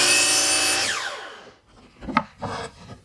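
Power saw blade cutting through a wooden board, a loud whining rip that winds down over about a second and a half, followed by a few quieter knocks and handling sounds.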